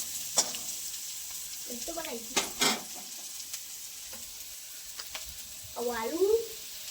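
Onion frying in a pan for village-style Maggi gives a steady soft sizzle beneath intermittent nearby talking voices, with a few clinks of stirring.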